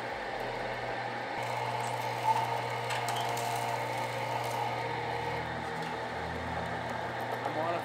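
A sugarcane juice mill, its chain jumping and heavily dirty, crushes sugarcane stalks on a first test run, giving a steady loud mechanical grinding hum with ratcheting gear noise throughout.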